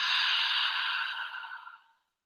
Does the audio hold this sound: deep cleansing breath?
yes